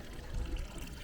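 Fresh water poured into plastic cups at a sake brewery museum in Fushimi, Kyoto, a soft, close trickle with a low gurgling splash running for about a second, no voices over it.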